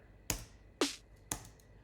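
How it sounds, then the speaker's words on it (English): Three crisp, isolated hits of a layered clap-and-snare drum sample in a house track, evenly spaced and close, each with a short bright decay and no other sound between them. "One clap kind of snare."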